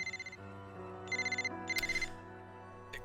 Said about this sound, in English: Is the Grand Architect calling your phone again?